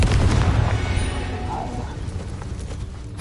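A Confringo blasting curse explodes in the Hogwarts Legacy video game: a heavy, close, low boom that rolls into a sustained rumble and fades gradually over a few seconds.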